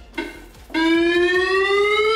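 Buzzer test on a JB QB 5Ei addressable fire alarm control panel. A short beep is followed by a loud, steady electronic tone that slowly rises in pitch, close to the listener with no talking.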